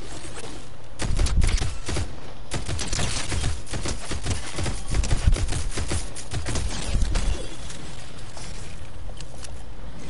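Rapid bursts of gunfire from a Fortnite match, dense clusters of shots repeating over several seconds with heavy low-end thumps, loud and close with no talking.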